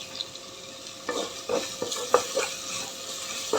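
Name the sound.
curry leaves sizzling as they are added to cauliflower gravy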